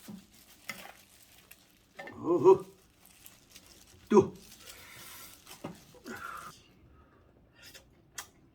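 Air-fryer roast chicken being pulled apart by hand, with soft crackling tears and a few sharper rips coming in short bursts, up close and fairly quiet, with a voice talking in between.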